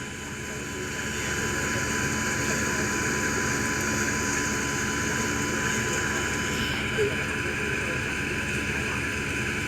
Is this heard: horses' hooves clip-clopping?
no